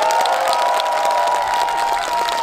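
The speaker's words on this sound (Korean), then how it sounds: "우리 응원의 박수 한번 쳐볼까요?" Loud, sustained cheering and clapping from an outdoor festival audience at a breakdance crew performance during a city citizens' day event, a dense roar of applause and shouts with a steady tone ringing beneath it throughout.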